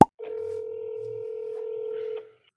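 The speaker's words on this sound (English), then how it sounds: "Say, Cole, you better answer that dang phone." A telephone rings with a single long, steady electronic tone lasting about two seconds, fairly clear and alone, with no voices over it.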